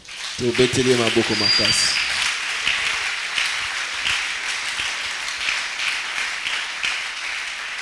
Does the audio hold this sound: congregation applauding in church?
yes